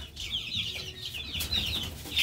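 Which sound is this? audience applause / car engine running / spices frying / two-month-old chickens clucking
two-month-old chickens clucking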